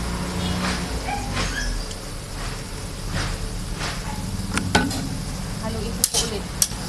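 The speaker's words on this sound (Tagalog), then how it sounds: "Haluin lang po natin para pantay ang pagkakaluto." Lumpiang sariwa filling, seasoned with pepper, is stirred in a frying pan, with a steady loud sizzle under repeated scraping and clinking of the utensil against the pan, growing busier toward the end.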